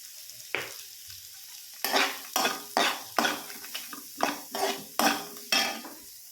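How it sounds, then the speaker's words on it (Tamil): Onions frying in butter with salt for paneer butter masala, a soft sizzle broken by about ten sharp, rhythmic spatula scrapes and clinks against the pan, close and clear. "நல்லா பட்டர்லேயே வதக்குனீங்கன்னா தான் அந்த ரிச்னஸ் கிடைக்கும் ஆனியன் ஆனியன் நல்லா வதங்கட்டும்"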